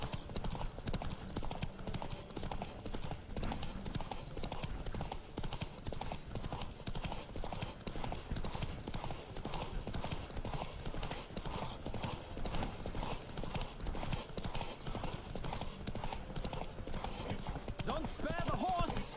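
A horse gallops in The Witcher 3: Wild Hunt, a steady rapid clip-clop of hooves throughout, with a brief whinny and a voice speaking over the running hoofbeats.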